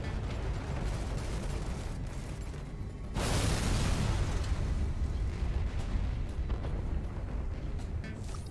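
Explosions in the video game Raiders of the Broken Planet: a continuous loud rumbling roar of blasts and debris that surges sharply about three seconds in and stays dense and heavy to the end.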